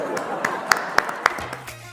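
A few spaced, crisp hand claps ring out at the start of a guess-the-song challenge game. About four distinct claps sound close by in an even rhythm, then fade into a low hum.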